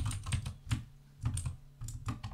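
Quick bursts of typing on a computer keyboard, close and crisp, with clustered key clicks separated by brief pauses.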